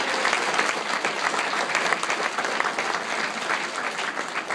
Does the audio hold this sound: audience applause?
yes